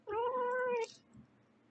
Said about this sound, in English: Take the microphone away and you start meowing.